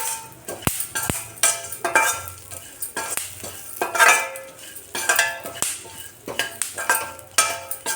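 Seeds roasting in a spoonful of ghee in a pan, stirred with a metal spoon: repeated scraping strokes and sharp clinks against the pan over a soft sizzle, close and steady throughout.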